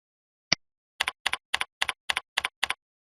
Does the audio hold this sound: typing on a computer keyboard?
yes